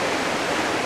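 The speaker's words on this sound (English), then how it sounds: "I'm going to find a way down to the bottom of the falls" A waterfall roars as a steady, dense broadband rush of falling water, close and continuous with no voices.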